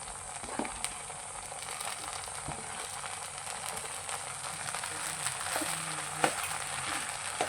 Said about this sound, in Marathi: आणि व्यवस्थित असं हे मिश्रण हलवून घ्यायचं आणि सतत ढवळत राहायचं